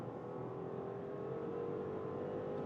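Steady, rising drone of an Audi A6 Avant's V6 engine pulling hard from 60 to 120 on a German motorway, heard from inside the car as a continuous even roar with no talk.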